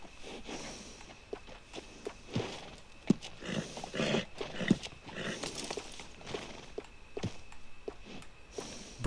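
Horses in the open-world western game Red Dead Redemption 2 move with irregular hoof clops, snorts and shuffling steps, fairly close and moderately loud, over quiet ambient background.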